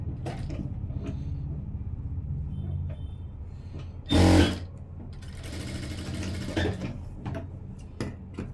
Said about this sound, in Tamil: மறுபடியும் டாக் அடித்து தையல் போட்டுக்கலாம்